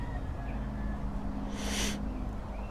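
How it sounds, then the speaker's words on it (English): Birds call in a jungle at midday, with one brief hooting call rising over a steady hum of insects and ambient noise; no talking. "Can you hear the birds?"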